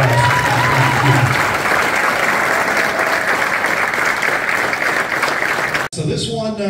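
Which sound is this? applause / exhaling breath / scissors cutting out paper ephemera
applause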